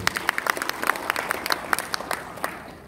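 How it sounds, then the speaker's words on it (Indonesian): Audience applause at an Indonesian seminar-style talk, a steady patter of separate claps from a modest crowd, fairly close and moderately loud, with no talking over it. "Tepuk tangan dulu Bapak Ibu."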